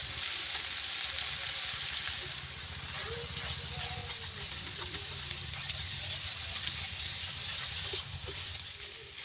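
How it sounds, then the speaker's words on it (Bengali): Spices are stirred into boiled greens, stalks and mixed vegetables in a pan, giving a soft sizzle and scraping stir that runs steadily throughout at moderate volume, with no talk over it. "মশলা দেওয়ার পর একটু নাড়াচাড়া করে দেবো"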